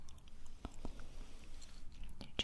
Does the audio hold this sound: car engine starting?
no